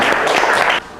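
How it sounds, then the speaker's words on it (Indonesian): Applause from a classroom group, a dense burst of clapping that fills the room, continuous and fairly loud, then tapering off sharply near the end. "tepuk tangan buat kita semuanya"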